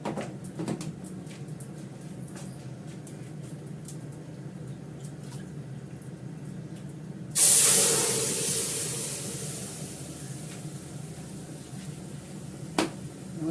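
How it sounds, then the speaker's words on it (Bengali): Hot water poured into dal in a hot pan sets off a sudden loud hiss midway through a quiet kitchen background, the steamy sizzle fading slowly over several seconds. "ডালে একটু জল দিয়ে দিই, গরম জল দিয়ে ডালটা সেদ্ধ করে নিয়েছি।"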